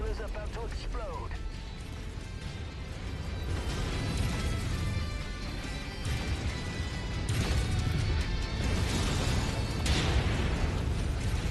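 A mech blowing apart in the video game MechWarrior 5: Mercenaries, a loud, sustained roar of explosion and crashing debris that swells and carries on over dense game noise for about eleven seconds.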